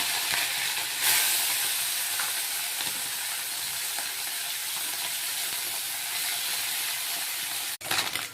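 Steady, dense sizzling of small chuno fish frying in hot oil in a kadai, close and continuous, with a brief clatter near the end.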